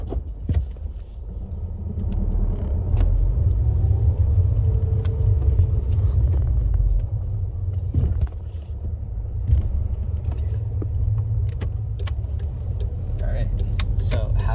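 A manual car's engine idling at about 1,000 RPM in neutral with the clutch in, a steady low rumble heard close up from inside, with a person talking intermittently over it and a few clicks.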